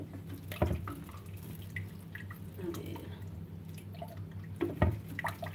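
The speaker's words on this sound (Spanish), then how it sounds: "Yo le echo al ojo, amigos, el agua." Water poured into a cooking pot in a kitchen, heard as a quiet, steady splashing trickle with a few louder drips and splashes, close by and without talk.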